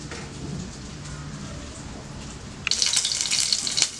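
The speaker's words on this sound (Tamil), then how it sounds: "மீடியம் ஃப்ளேமில் ஃப்ரை பண்ணி எடுத்துக்கோங்க." Cauliflower chicken patties fry in oil over a medium flame with a steady crackling sizzle that suddenly grows louder and brighter partway through.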